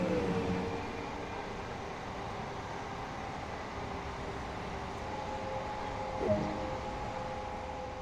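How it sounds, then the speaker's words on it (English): An oncoming train passes the other way in Train Sim World 2 on a GWR route near Chatham, a steady rail rumble and hiss running throughout with a brief louder swell near the end. "The train coming the other way."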